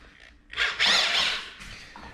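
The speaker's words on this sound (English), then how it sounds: "I'm gonna fire up this drill" A power drill with a mixing paddle churning thick joint compound in a pail, starting quietly then revving up into a loud, close whirring grind that eases off near the end.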